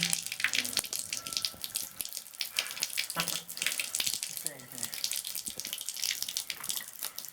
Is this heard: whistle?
no